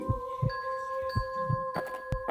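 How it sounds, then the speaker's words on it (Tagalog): A loud pounding heartbeat sound effect in a Filipino horror story, several deep double thumps in steady rhythm under a sustained eerie tonal hum, ending with sharp bursts. "Hindi pa rin matanggal-tanggal ang malakas na kabog ng dibdib ko"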